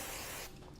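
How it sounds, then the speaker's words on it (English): Hairspray hisses from an aerosol can onto a bridal updo in one steady, close burst lasting about half a second, then stops abruptly. "spray it down with some hairspray"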